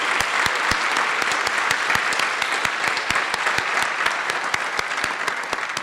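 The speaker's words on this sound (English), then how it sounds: "let's give them a round of applause" Graduation ceremony crowd for a university flight academy giving a sustained round of applause, thick steady clapping with sharp individual claps standing out near the microphone.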